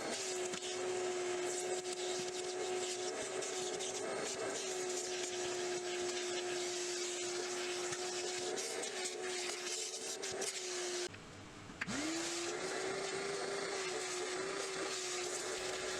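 A vacuum cleaner running inside a Porsche interior drones with a steady whine. It briefly drops out and then spins back up to a continuous hum.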